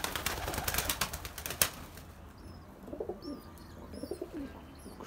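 Soft pigeon coos and rustling movement in the foreground, with a burst of flapping or scuffling noise at the start and faint bird chirps afterward.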